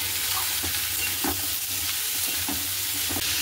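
Diced potatoes hitting hot oil tempered with nigella seeds and chili, a steady close sizzle with a few soft stirring scrapes and taps scattered through it, no voices.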